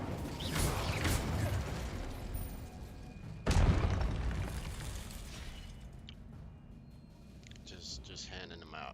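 Fiery spell blasts in a Hogwarts wizarding video game, two sharp bursts with a whooshing crackle and a booming impact that fades into softer rumbling.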